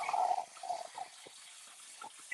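A container being rinsed under a running kitchen tap while making blended oats, a steady faint gush of water with slight splashing shifts, no voices.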